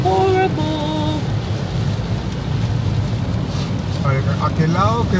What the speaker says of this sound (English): So this rain is horrible.